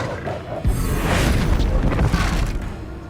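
Depulso spell cast in the video game Hogwarts Legacy, a sudden booming magical blast that bursts in after a short pause and rumbles on with a whooshing, crackling tail.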